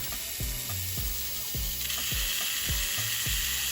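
A Tamiya SMC dynamo motor runs on a speed checker with a 1.5-volt battery and torque gearing, a steady high whine overlaid with a regular clicking ratchet-like tick about twice a second, close and unaccompanied by talk.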